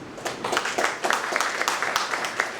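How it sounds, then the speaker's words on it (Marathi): Attendees at a spiritual seekers' retreat in Mumbai clap to congratulate the organisers, producing a short burst of light, brisk applause made of many overlapping hand claps. "त्यांना सर्वप्रथम आपण अभिनंदन त्यांचं करूया टाळ्या वाजवून."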